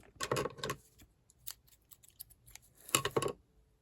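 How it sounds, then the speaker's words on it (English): Scissors snipping through crochet yarn during a mosaic crochet project, a few close, crisp cuts in quick bursts with quiet pauses between, no talking. "Single through both loops and cut the yarn"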